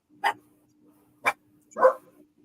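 Dogs bark three times in short, separate bursts, the last one fuller, against a quiet background with a faint steady hum and no talking.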